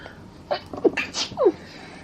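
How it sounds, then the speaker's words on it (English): A single sudden sneeze, close and fairly loud, with a sharp breathy burst and a brief voiced tail, then quiet. "Hold on, I'm gonna sneeze."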